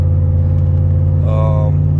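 A GM 4.8 V8 truck engine with a BTR Truck Norris cam, stock manifolds, catalytic converters and a muffler delete idles close by with a deep, steady, throbbing rumble throughout.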